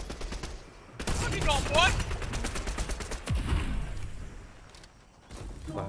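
Gunfire from the video game Fortnite, played in Zero Build mode, arrives in rapid, crackling bursts, loud and close, with a player talking over the shooting.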